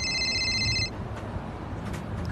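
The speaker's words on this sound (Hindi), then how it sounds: "अरे तेरी बॉयफ्रेंड का फोन आ रहा है" A phone rings with an incoming call, a short electronic tone lasting under a second, followed by a low room hum and faint background noise.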